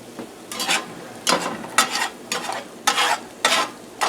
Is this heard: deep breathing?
no